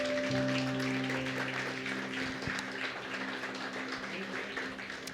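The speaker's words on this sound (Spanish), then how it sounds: "Dele un aplauso al Señor, hermano, por favor" A church congregation applauds steadily, a soft sustained patter of clapping with a faint musical hum underneath.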